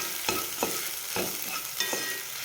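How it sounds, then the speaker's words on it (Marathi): A spatula scrapes through a poha-like healthy dish in a pan, four or five distinct stirring strokes over a soft continuous sizzle, close and with no talking. "आता हे हलवून घेऊयात आपण चांगलं"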